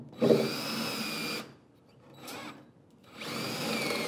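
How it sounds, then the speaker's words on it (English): A power drill whirs steadily as it pre-drills a hole through wood for a shelf, pauses briefly with a short burst, then runs again, loud and close. "take a drill and just pre-drill the hole through here"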